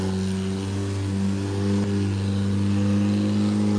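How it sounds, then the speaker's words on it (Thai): A longtail boat engine passes on the Chao Phraya River, a loud, steady droning motor with strong low harmonic hum that swells slightly as it goes by, alone without talk. "เรือหางยาวพาฝรั่งไปแล้ว"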